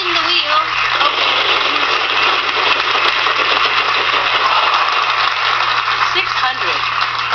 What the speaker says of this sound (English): I'll spin the wheel